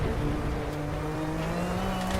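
A classic GTO race car at full throttle in RaceRoom at Zolder, its engine roaring loud and steady with a rising tone under a rough, grinding rasp, without any talk.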